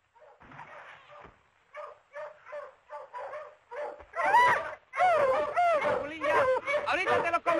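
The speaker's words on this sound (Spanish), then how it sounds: "¿Qué le parece, señor, si echamos los perros aquí?" Several hunting dogs bark and yip repeatedly out in the countryside during a deer hunt, starting as a moderate series of barks and swelling into a louder, overlapping chorus of howling barks, with a voice mixed in.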